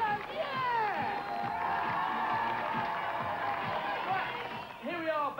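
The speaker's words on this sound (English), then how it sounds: "Let's have a round of applause for the competitor!" Crowd cheering and clapping at a 1985 televised BMX freestyle event, loud and sustained with excited shouts and voices over the noise throughout.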